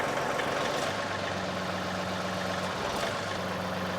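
A John Deere compact tractor idles with its backhoe out of the circuit, a steady low diesel drone, fairly faint and continuous, with no talk.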